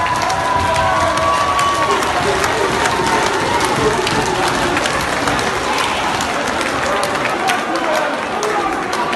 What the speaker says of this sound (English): Can we give both boxers a massive, massive round of applause,